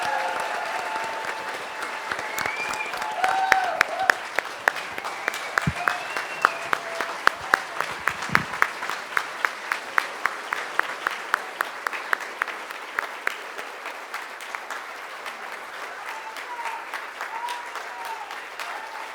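Applause at a conference panel close begins as a dense, scattered crowd clap, then settles into a near rhythmic run of individual claps before fading, with brief voices over the top.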